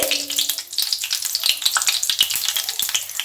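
A small bay leaf and cumin seeds crackle and sizzle in hot oil in a pan, a steady close frying hiss with dense spitting pops throughout, no talking.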